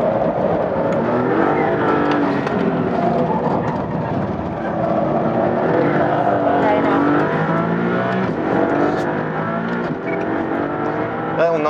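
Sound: Maserati MC20 sports car driving and shifting gears

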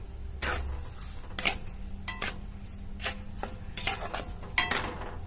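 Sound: stirring sugar and mango in a pan on low flame

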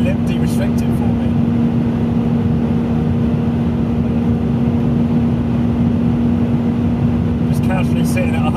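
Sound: V12 BMW 7 Series driving at high speed

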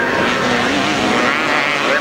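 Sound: 250cc racing motorcycles

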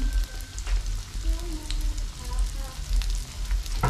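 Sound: maandazi dough frying in boiling cooking oil

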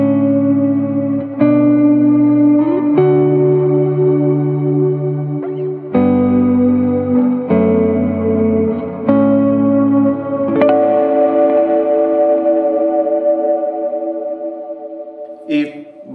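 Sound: electric guitar through two separate parallel effects pedals

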